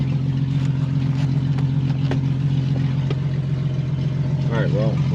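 An old, cheap Jeep drives off a trailer, its engine running with a steady, close, mid-pitched hum and a few faint knocks, and a voice is heard briefly near the end.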